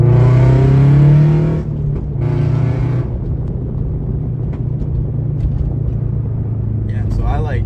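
A Subaru BRZ with its stock intake revs up loudly in a rising, tonal engine sweep that peaks and falls away after about a second and a half, then a brief second burst before settling into a steady low rumble.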